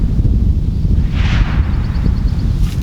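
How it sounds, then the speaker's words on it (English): Heavy wind roars across an outdoor shooting range, buffeting the microphone in a loud, continuous low rumble with no speech. "Heavy wind at my face."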